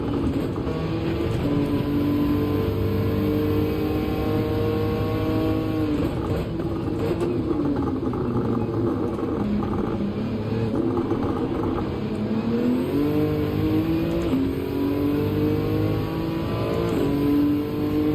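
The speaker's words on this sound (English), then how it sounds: "Wow, that car is really fast in a straight line." A race car engine in Gran Turismo 7 at Willow Springs accelerates hard, its pitch climbing through gears in sustained, loud rising sweeps with brief shift dips, steady and close throughout.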